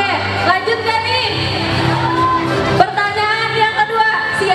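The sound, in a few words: audience applause and cheering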